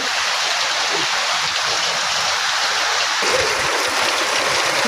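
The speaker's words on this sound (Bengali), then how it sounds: "দেখুন কি জোরে জোরে বৃষ্টি হচ্ছে" Heavy monsoon rain pours down in a steady, dense hiss, loud and unbroken throughout, with water splashing and running close by.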